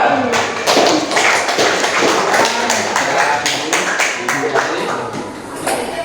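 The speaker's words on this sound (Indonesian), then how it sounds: "tepuk tangan untuk kelompok 2" A classroom of schoolchildren claps for a group after a discussion, loud, dense and close, with sharp hand claps sustained for several seconds.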